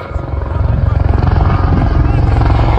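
A helicopter's rotor chops loudly and steadily overhead, a rapid rhythmic thudding over a low engine roar, in the Himalayas.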